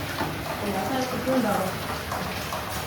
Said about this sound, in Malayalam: നിൽക്കാത്ത പെയ്യുന്ന മഴയാണ്. എല്ലായിടത്തും കൂടെ മഴയാണ്.